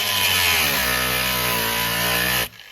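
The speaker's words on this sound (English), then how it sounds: "I'm just going to cut a slot right in that, right in the top middle section of that carriage" Angle grinder cutting a slot into the top of a steel carriage bolt on a barn door, a loud, close, steady high-pitched whine with a gritty edge, running continuously for over two seconds before cutting off abruptly.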